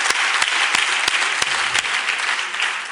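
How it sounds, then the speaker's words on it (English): Book launch audience at the Opera House in Port Elizabeth breaking into applause, a full, even wash of clapping with a few sharp louder claps standing out, continuous throughout. "that deserves another round of applause"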